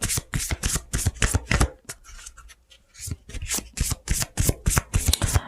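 A deck of fortune cards being shuffled by hand: rapid riffling bursts in quick rhythmic runs, a short pause in the middle, then more shuffling, close and fairly loud with no talk.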